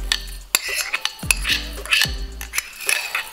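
A spoon scrapes and clinks against a bowl while rice and mince are mixed for stuffed peppers, producing a few sharp metallic taps amid soft squelching stirs, close and fairly quiet.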